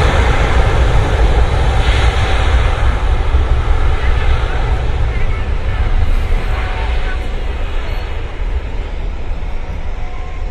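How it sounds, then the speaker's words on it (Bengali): A Boeing 777 airliner at Dhaka airport gives off a loud, continuous engine roar that fills the scene and fades slightly toward the end. "777, বোয়িং 777 মডেলের বিশাল সাইজের বিমান"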